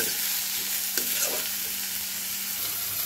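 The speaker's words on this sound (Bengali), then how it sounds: "তো চলো পেঁয়াজটাকে আগে সুন্দর করে ভেজে নেই।" Onions frying in a pan for a fish and vegetable dish, a steady close sizzle with occasional stirring scrapes and no talk.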